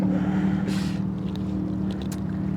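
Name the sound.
motorboat passing on water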